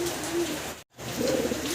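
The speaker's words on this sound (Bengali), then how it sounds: "অস্থির ভাইয়ের কবুতরগুলা খুবই অ্যাক্টিভ, দেখতে পারতেছেন ডাকাডাকিতে ব্যস্ত আছে" Several fancy pigeons cooing busily at a breeder's loft, a steady low murmuring coo close by, broken by a brief gap midway before the cooing swells again.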